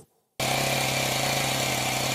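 After a brief silence, a chainsaw from the Chainsaw Man anime roars in abruptly, a loud, steady buzzing engine drone that holds constant to the end.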